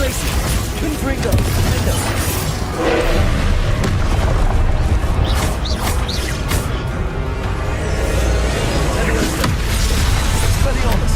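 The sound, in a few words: Confringo blast spell explosion in Hogwarts Legacy video game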